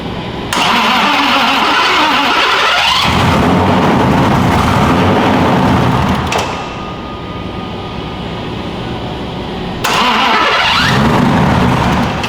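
A turbocharged BMW E46 cranks and fires for its first start, the engine roaring loud and close, dipping to a rougher idle midway, then revving back up.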